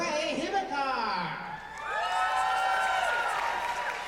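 A convention crowd cheers for a dance performer, a loud swell of whoops and shouts that dips briefly, then surges back up and holds.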